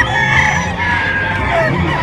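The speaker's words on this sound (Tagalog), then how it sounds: "ito yung manok niya mga kayami ha. Isang red kelso at isang pumpkin." Red kelso and pumpkin gamefowl roosters crow at an expo in Bocaue, the calls overlapping within dense crowd noise and other birds, with voices talking nearby.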